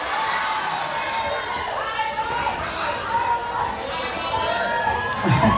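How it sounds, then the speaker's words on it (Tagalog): Crowd at a concert shouting and cheering loudly in a sustained roar, with overlapping voices and shrieks, while a singer talks to them over the noise. "Saan malakas sumigaw ng idol?"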